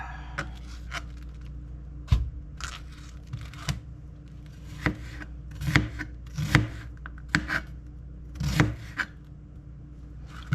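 A knife cutting cabbage into small pieces for cabbage soup, irregular soft chops and crunchy cuts scattered over several seconds, close and fairly quiet.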